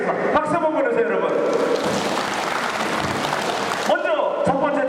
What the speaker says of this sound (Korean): 박수 한번 보내세요, 여러분